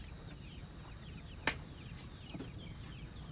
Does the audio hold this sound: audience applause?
no